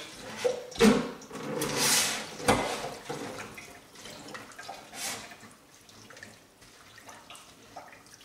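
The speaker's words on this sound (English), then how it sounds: "So just wash your leaves, kind of spin them around." Kale leaves swished and spun by hand in water, giving soft sloshing and splashing with a few louder bumps early on, quiet and close with no talk.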